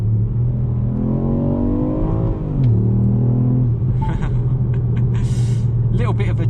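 Ford Puma ST 1.0 EcoBoost mild-hybrid accelerating after a shift into second gear, a steady engine drone with rising harmonics that dips briefly at the shift, then settles into a continuous hum with faint clicks over it.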